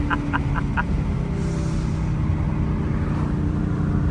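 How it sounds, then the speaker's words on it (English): A car with a Corsa V8 exhaust cruises along a winding road, its engine a steady deep rumble in the cabin with no sharp revving, continuous throughout. "This is the Corsa V8 exhaust therapy everyone needs."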